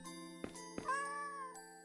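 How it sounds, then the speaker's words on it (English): A cat in a video game lets out a drawn-out, rising-and-falling meow, clear and close, set between a few soft clicks over a steady background music drone. "Oh wait, the cat's there!"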